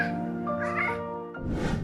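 A Maine Coon cat gives a drawn-out greeting meow, a close, harmonic call that rises and falls and is followed by a second, rougher vocal burst near the end.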